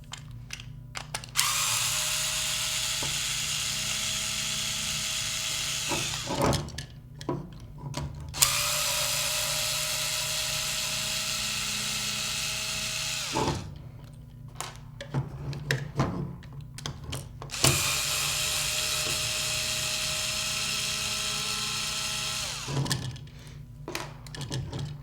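A cordless drill or powered screwdriver backs screws out of a Nerf Maverick blaster in three long whirring bursts, each running several seconds with handling clicks and pauses between.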